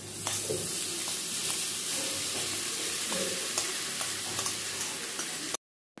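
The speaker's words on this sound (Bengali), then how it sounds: "এবার কড়াইয়ে থাকা বাকি উপকরণের সাথে চিড়েটা ভালোভাবে নাড়াচাড়া করে একটু মিশিয়ে নেব" Flattened rice poha being stirred with fried spices in a kadai, a steady close sizzle with soft scraping stirs, then sudden silence near the end.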